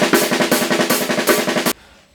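A drum kit plays a fast gravity blast beat on hi-hat, snare and bass drum, with dense, rapid repeated hits in a steady driving pulse. It is loud and close and stops abruptly near the end.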